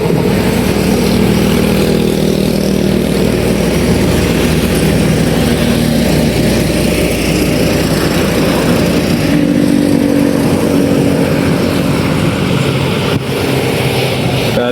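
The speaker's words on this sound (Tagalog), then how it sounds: "Bibilis ng mga motor dito guys dumadaan" Motorcycles speed along a smooth, paved, steep road with a continuous loud engine roar and rushing wind noise that holds steady throughout, with no clear pauses.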